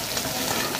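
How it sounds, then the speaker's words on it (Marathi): Chopped green chillies frying in hot oil with garlic for radish chutney, giving a loud, close, continuous sizzle with no pauses. "मिरची पण तेलामध्ये मस्त फ्राय करून घ्यायची"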